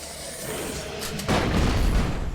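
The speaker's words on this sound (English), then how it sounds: "There were so many explosions." In the video game ELEX II, background rumble gives way to a sudden deep explosion that booms and lingers, with a rough roar continuing after the blast.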